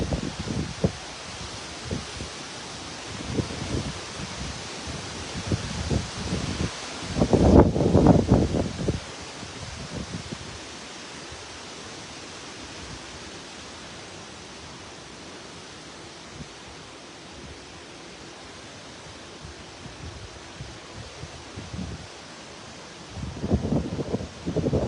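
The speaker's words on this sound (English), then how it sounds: "That wind gust was no joke" Hurricane wind gusts rush through trees in Florida, a broad noisy roar of rustling leaves and microphone buffeting that swells into loud bursts near the start and end and eases to a softer hiss in between, with no talk.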